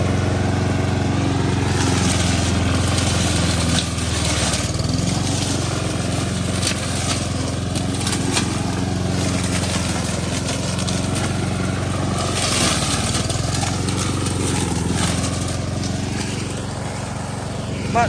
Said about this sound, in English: he's still mowing the other side